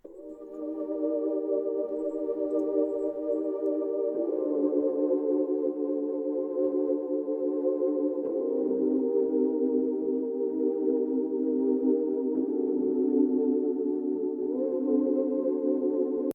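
Night Conversation pad synth preset from Analog Lab sustains soft layered chords, changing roughly every four seconds, smooth and mellow, alone with no talking and no effects.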